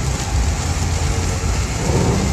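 Steady, heavy rain falls during a storm on a road in the Rhône-Alpes, a dense continuous hiss with a deep low rumble throughout, loud and unbroken with no voices.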